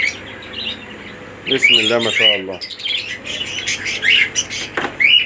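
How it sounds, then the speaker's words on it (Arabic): Australian pet birds chirping and squawking in a pet shop, a busy, close flurry of bright tweets and calls running throughout, with someone speaking briefly among them. "شوية عصافير الله اكبر"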